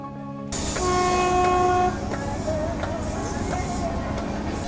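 The Hemkunt Express rolls along, heard from inside a general class coach: a loud rumbling ride with a sustained horn blast early on, then continued rattling and clatter of the carriage.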